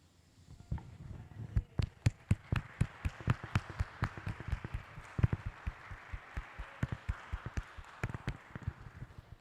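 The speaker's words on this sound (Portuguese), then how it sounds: "Quem leu vai aplaudir." A church audience claps along in a steady rhythmic beat, the sharp claps fairly close and even for several seconds, with a faint murmur of the room behind.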